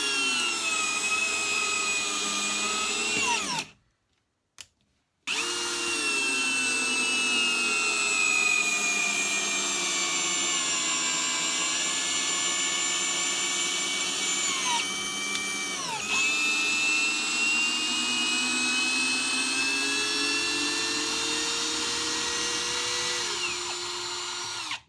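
Two brushless 80 Nm impact drivers, a Teccpo and a Parkside, run side by side at maximum clutch and speed 1, giving a steady high-pitched motor whine throughout, cut by one brief pause and a pitch dip midway.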